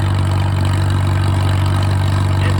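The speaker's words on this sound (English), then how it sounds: "we're running on 50-50 used oil and 87 octane" Farmall tractor engine running on a 50-50 mix of used oil and 87 octane gasoline, a loud, steady low idle with a constant deep hum and no voices.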